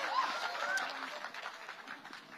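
Audience applause fills a hall at an evening talk by a spiritual speaker launching his book. A dense, steady wash of clapping runs throughout, with scattered cheers and voices mixed in.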